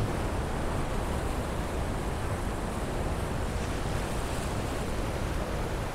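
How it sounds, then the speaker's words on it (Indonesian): Big ocean waves roll in at an exotic beach in Bengkulu, Sumatra, making a dense, unbroken roar of surf that stays loud and steady with no voices. "rupa-rupanya kayaknya ombaknya makin besar ya"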